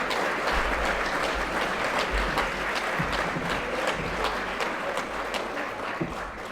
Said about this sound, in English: can we just get a round of applause for the hard work put in by all the students